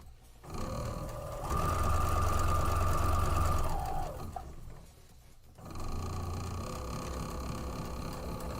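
A sewing machine stitches quilt blocks with a steady whirring hum that runs loud for a few seconds, stops briefly, then starts up again and carries on evenly.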